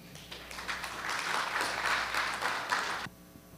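A conference audience at a panel on building a financing framework breaks into dense, sustained applause that holds for about three seconds and then cuts off sharply, leaving a quiet room.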